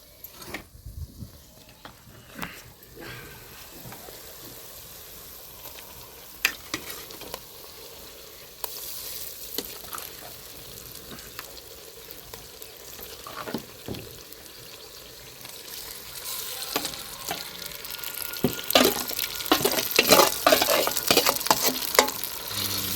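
Chicken pieces sizzle and fry in a pan with browned onions for a green chicken curry, with steady stirring and scraping that grows louder and busier toward the end.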